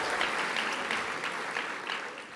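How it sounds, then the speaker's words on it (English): Steady applause from an audience at the 2019 JNF National Conference opening plenary: a dense wash of many hands clapping, moderately loud and sustained throughout, with no voices over it. "And let's give him a round of applause."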